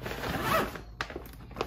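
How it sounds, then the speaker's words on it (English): A zipper on a fabric toy storage bag for building blocks is pulled in one quick rasping stroke, then a few brief clicks and handling rustles follow, close and clear with no talk. "I love that it has a storage bag with a zipper"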